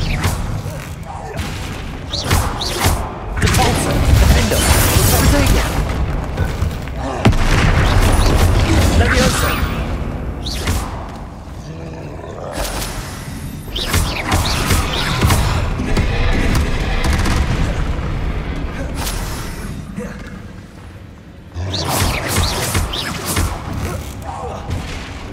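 Spell impacts in the Hogwarts Legacy video game, Expelliarmus among other combat casts, land as repeated loud booming bursts and crackling blasts over a dense game soundtrack throughout, with a brief lull near the end.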